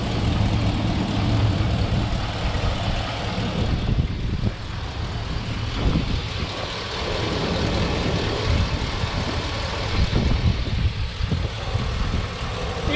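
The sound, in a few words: truck engine idling after exhaust manifold leak fixed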